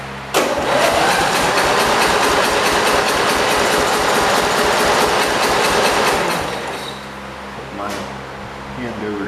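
A Cub Cadet 482 engine cranks over with compression, a fast, regular rhythmic chugging that runs loud and close for about six seconds before stopping, leaving quieter background noise.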